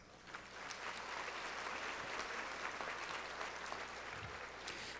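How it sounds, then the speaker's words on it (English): Audience at a Power of Pink breast cancer event gives sustained applause, a fairly faint wash of many hands clapping heard from a distance, steady throughout with no speech on top. "That's worth some applause."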